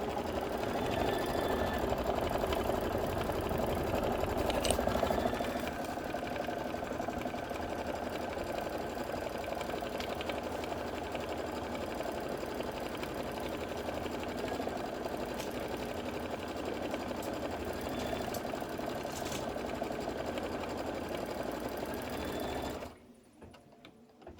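A sewing machine stitches a quilted table topper in a steady, continuous whir that runs for a long stretch, then cuts off near the end.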